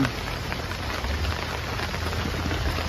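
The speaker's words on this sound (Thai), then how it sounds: "บรรยากาศกำลังดีครับ ฝนกำลังตก" Steady rain patters down on a surface at a riverside campsite, a dense continuous shower close by with no talking.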